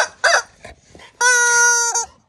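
A chicken gives a few short clucks, then lets out a long, loud crowing squawk near the end, close up and with no talk over it.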